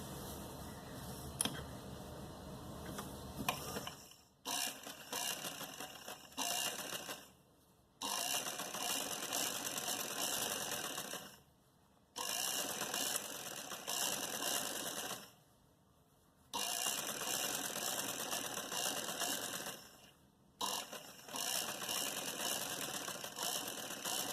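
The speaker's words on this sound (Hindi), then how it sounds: "अब सबसे पहले हम इसको इस तरीके से दबा के यहाँ एक किनारी पे सिलाई करेंगे।" Sewing machine stitching along the edge of a salwar hem, running in steady mechanical bursts of several seconds each, separated by short pauses, close and alone with no talk.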